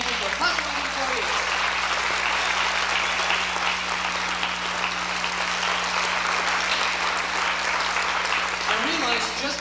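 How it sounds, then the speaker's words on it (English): A college concert audience at a 1988 vocal jazz performance applauds continuously, a steady roar of clapping for classified employees, with a low hum beneath and faint voices mingling in. "a big round of applause and thank you for classified employees"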